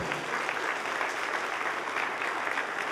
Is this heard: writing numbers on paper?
no